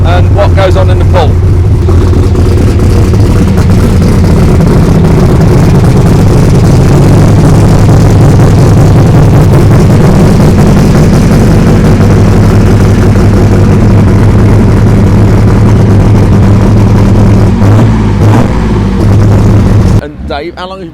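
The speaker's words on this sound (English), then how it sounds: "He's just warming the tractor up." International pulling tractor's heavy diesel engine warming up, a loud continuous low rumble and throbbing idle that swells midway and cuts off abruptly near the end, with voices talking over it.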